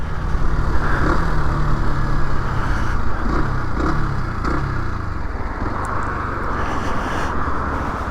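An MRT125 SM motorcycle riding through busy traffic, a loud continuous engine drone with some rising revs, mixed with the surrounding rush of cars and wind.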